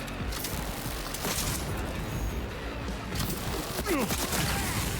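Gunfire in a police shooter video game, bursts of shots and booming impacts over a dense, loud wash of game noise, with continuous action throughout and a brief sharp hit near the end.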